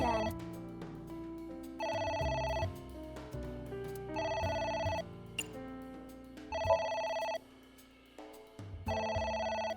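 A telephone in the video game AI: The Somnium Files rings in repeated two-part electronic bursts with short pauses between them, loud and clear over soft game music.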